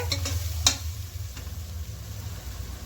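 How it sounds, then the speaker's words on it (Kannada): Ginger garlic paste and masala fry in a pan for egg biryani, giving a steady low sizzle throughout with a single sharp scrape of stirring about a third of the way in. "ಹಾಕ್ಕೊಂಡು ಇದರ ಹಸಿ ವಾಸನೆನೂ, ಈ ಮಸಾಲೆದು ಹಸಿ ವಾಸನೆನೂ ಹೋಗೋವರೆಗೂ ಹೀಗೆ ಫ್ರೈ ಮಾಡ್ಕೊಳ್ಳಿ."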